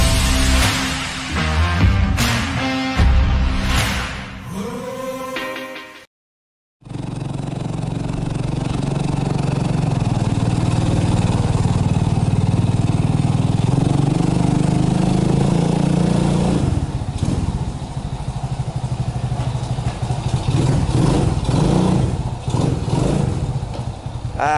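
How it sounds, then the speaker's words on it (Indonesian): A custom motorcycle engine runs steadily at close range, a loud continuous idle with slight revving swells, after a brief burst of other sound and a short silence. "Nah, ini motor custom"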